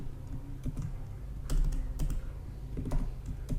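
Keystrokes on a computer keyboard while entering a URL into a Postman request, a run of close, crisp clicks in short bursts with brief pauses, over a low steady room hum.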